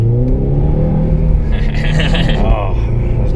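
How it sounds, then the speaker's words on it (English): A naturally aspirated car engine, in a Subaru BRZ or STI, revs up with a deep, throaty rumble, rising in pitch toward the middle, heard from close by inside the vehicle. "I like the sound of the engine, the organic, naturally aspirated sound"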